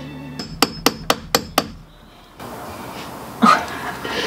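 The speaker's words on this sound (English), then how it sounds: "Knocking these little plug things out." Hammer knocking plugs out of a boat's deck hatch, six sharp evenly spaced metallic blows close by, followed by a quiet gap, shuffling workshop noise and a brief vocal sound.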